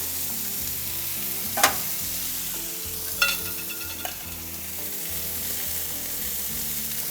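Steaks searing in an air fryer, a steady close sizzle broken by two or three metallic clanks as they are flipped.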